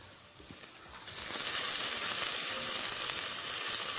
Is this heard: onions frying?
yes